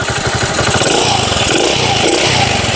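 An upgraded motorcycle engine, bored up to 100 cc, idles smoothly up close, a steady low chugging rhythm with a constant mechanical hum.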